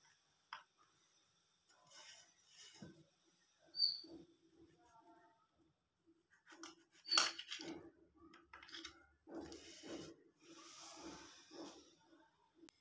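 A kitchen knife trimming the leftover side edges off an egg sandwich, giving quiet, scattered scraping and tapping strokes against a board or plate with clicks in between, close and soft, with faint talk now and then.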